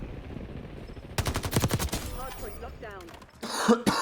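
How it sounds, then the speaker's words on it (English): In a Black Ops 6 match, a burst of rapid gunfire rattles loudly, followed by a throaty cough and another harsh cough close to the microphone. "Sorry for coughing."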